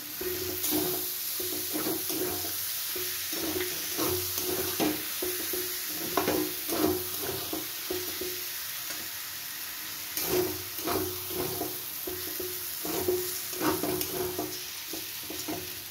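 Tomato paste sizzling in a hot pan while being stirred, a steady close hiss of frying with regular scraping strokes of the spoon, no voices.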